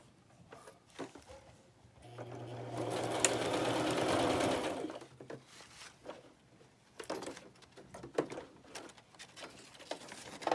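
A home sewing machine runs a steady stitching burst for about three seconds while sewing pockets and ruffles, then stops abruptly, followed by scattered clicks and handling noises as it jams.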